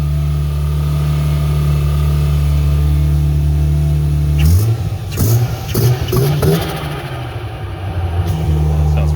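An FC pickup truck engine with a clutch problem idles steadily at a low, even pitch, then revs in several short blips before settling back to idle, close and loud.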